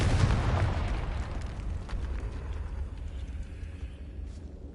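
A Confringo blasting spell explodes in Hogwarts Legacy inside a decaying catacomb, a deep rumbling blast at the start whose low boom slowly fades into a lingering rumble.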